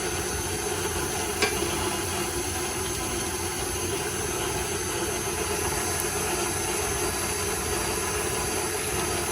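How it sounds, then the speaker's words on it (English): An electric mixer beats warm profiterole choux pastry mixture with egg to whip air into it, giving a steady, continuous whirring drone with a constant level throughout and no talking. "beating it up, you know? To get air into it."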